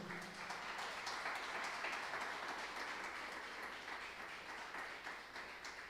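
A church congregation applauding during a sermon: a faint, steady wash of many hands clapping at a distance, continuing evenly with no voices on top.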